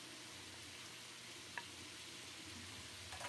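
Chopped vegetables go into a pan of cooking chicken for chicken noodles, giving a steady, even sizzle with one small tick midway and a louder stir at the end.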